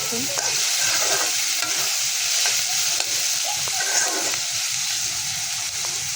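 Shrimp frying with onions in a pan gives a loud, steady sizzle with constant hiss and scraping stirs throughout, close and prominent.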